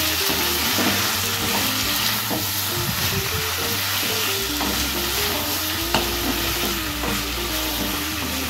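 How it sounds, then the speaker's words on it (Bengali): Chicken fries with chilli in a pan under steady, loud sizzling, joined by repeated scraping and clattering of a spatula being stirred through the pieces, with a low background hum and no voices. "এরপর আমরা এর মধ্যে দেবো লঙ্কা, দিয়ে আবার আমরা ভালো করে এটাকে রান্না করে নেব"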